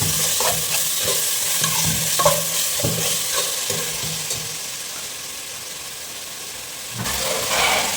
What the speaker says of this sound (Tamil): நம்ம இப்போ தக்காளி போட்டுக்கலாம். ஒரு தக்காளி போட்டுங்க.